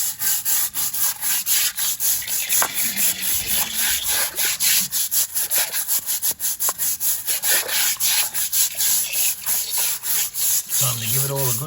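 A formal fish pond being scrubbed with a brush, a continuous loud, close series of rapid rough scraping strokes in steady rhythm throughout.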